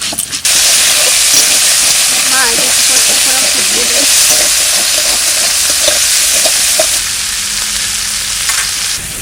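Dry red chillies, cumin and coriander frying in hot oil in a home kitchen, a loud, steady sizzle and hiss that runs the whole time with faint stirring underneath.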